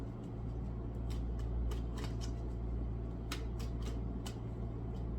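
Tarot cards shuffled in a series of crisp riffling bursts over a steady low hum, close and fairly quiet, with no talking.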